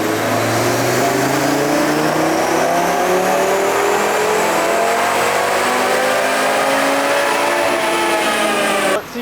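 A 2024 Audi RS3 with a JB4 tune on stock map and 91 octane fuel revs on a dyno, its engine note climbing steadily and loudly through a full pull before cutting off abruptly.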